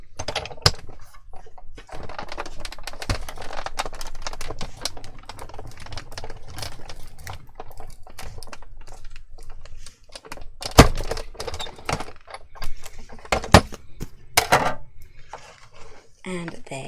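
Embossing folder squeezed through a die-cutting machine between cutting mats for a Christmas card, a rapid series of close clicking, crunching and creaking with sharper cracks near the end, under faint background sounds.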